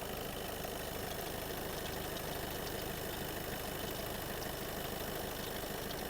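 A 2014 Skoda Octavia A7 1.6 TDI diesel engine idles evenly and continuously, a dense low rumble with a faint mechanical clatter, close by and with no voices.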